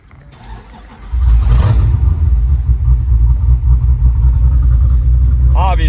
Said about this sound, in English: I was able to get this thing to start up hot, so I'm gonna test that right now on video for you guys